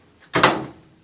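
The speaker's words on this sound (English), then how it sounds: "Close the door." A clothes dryer door closes with a single sharp thump and a brief rattle, close by in an otherwise quiet room.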